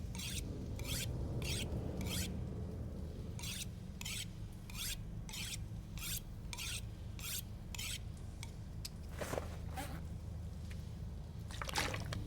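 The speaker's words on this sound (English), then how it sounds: "minor maintenance stuff, like sharpen our axe here" An axe being sharpened in the survival video game The Long Dark makes a series of close, harsh rasping strokes in a steady rhythm, giving way to a few scattered scrapes toward the end.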